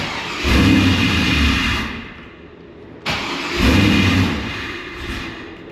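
A Pontiac Trans Am WS6 with an intake problem and a new MAF sensor revs up, then stalls the moment throttle is given, twice over: a loud rumbling surge that dies away to near silence before a sudden restart.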